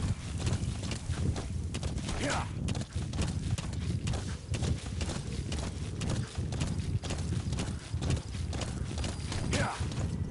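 Horse hooves clip-clop in a steady walking rhythm in Metal Gear Solid V, fairly close, while a voice speaks briefly.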